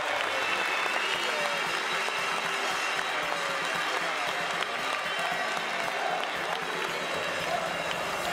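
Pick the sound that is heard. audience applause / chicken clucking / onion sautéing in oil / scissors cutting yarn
audience applause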